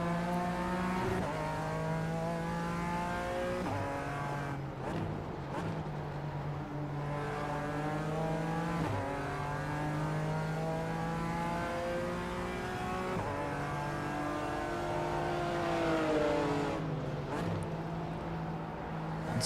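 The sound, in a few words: BMW race car engine and downshifts in iRacing video game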